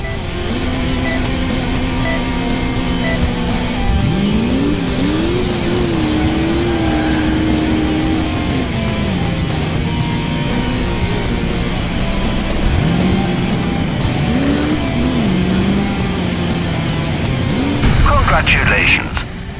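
In the Crash Time 2 driving game, a car chases a remote-controlled vehicle. The engine drones loudly and without a break, its pitch swelling and dipping as it accelerates and eases off, and a voice speaks over the roar.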